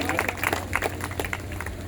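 A church congregation claps loudly in praise, a dense burst of applause that stays fairly steady and close, with voices mixed in.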